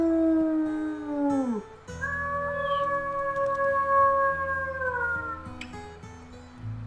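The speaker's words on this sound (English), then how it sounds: "let's do a little bit of a morning howl" A wolf howl from the WolfQuest video game: one long wavering howl that slides downward and fades, then a second sustained, tonal howl that holds for several seconds before tapering off, loud and clear with no speech.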